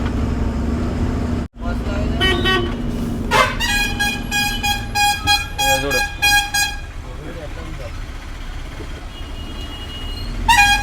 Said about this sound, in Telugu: ఇట్లానే ట్రాఫిక్ జామ్ అవుతుంది